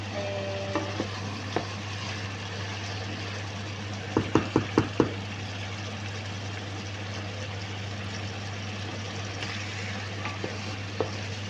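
Chicken adobo cooking in a pan is stirred, producing a quick run of four or five scraping clacks over a steady low hum and soft sizzle, with a few isolated knocks before and after.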